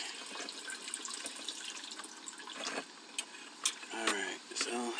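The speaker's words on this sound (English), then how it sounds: "And pour all your fuel back into the tank." Fuel gurgles and splashes as it is poured back into a vehicle's tank after a fuel filter and return install, uneven pouring with glugs near the end, close by, with a voice speaking briefly over it.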